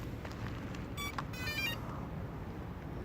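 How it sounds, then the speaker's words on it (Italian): A Xiaomi Mi Drone 4K remote controller gives two short electronic beeps at power-on, thin and fairly faint above a steady background hiss, with no one talking. "Sentirete questo beep che vi indica che il telecomando è acceso."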